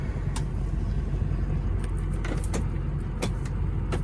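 A 2006 Ford F250 with a 6.0 Powerstroke diesel drives through the gears, its steady low engine rumble filling the cab alongside a few sharp clicks and rattles.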